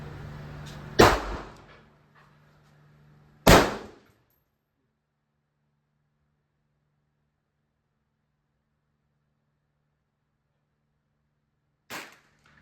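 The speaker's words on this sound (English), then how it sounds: "That's a gas gun." Rifle shots ring out on a precision rifle range, two sharp loud reports about two seconds apart, then a long silence before a fainter third shot, with no talk.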